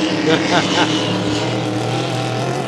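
A vintage hydroplane racing boat engine drones loudly and steadily at an outdoor race on water, a low throaty roar under a voice speaking French over a public address.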